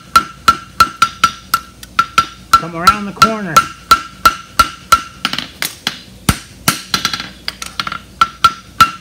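A farrier's hammer shapes a European hind bar shoe on an anvil with a steady run of sharp, ringing metallic strikes, loud and close, about two blows per second with a brief pause, under a few spoken words.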